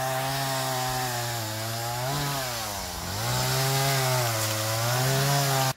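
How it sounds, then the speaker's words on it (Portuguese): A chainsaw cuts a large fallen tree branch at a country property after a cyclone. The engine drones steadily and close, with its pitch dipping and rising as the blade bites, and it stops abruptly at the end. "já tá cortando, já tá diminuindo o galhão"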